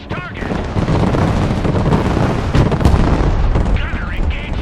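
A tank main gun fires at a target in the military strategy game Broken Arrow, a heavy booming blast within a loud, continuous rumbling battle din, with a voice briefly heard over it.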